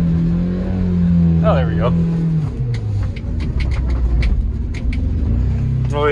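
A Honda CR-V engine revs and rumbles as the clutch is eased out while reversing on ice, a steady low drone rising and falling close by, with people talking over it.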